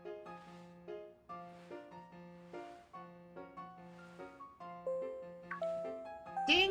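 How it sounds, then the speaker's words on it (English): A school PA chime in Pokemon Violet rings out as a series of soft melodic ding-dong tones, repeating in steady phrases at moderate loudness, with a brighter jingle near the end. "Ding dong! Calling students to the director's office."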